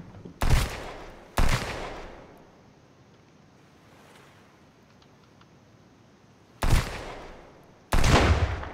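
A rifle fires while hunting in the survival game Sunkenland, four sharp, loud single shots in two pairs separated by a long quiet stretch of faint wind-like ambience.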